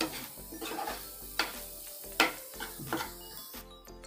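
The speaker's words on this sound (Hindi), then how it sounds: "इसको अच्छी तरह से आप लोग मिक्स कर दीजिए।" Semolina breakfast batter being mixed in a pan, with soft scraping strokes and occasional clinks of a spoon against the pan, close and fairly quiet.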